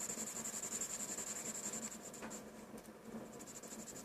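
A pencil shades a drawing of an eye on paper, giving a continuous soft scratchy rubbing of quick back-and-forth strokes, close and quiet with no talk.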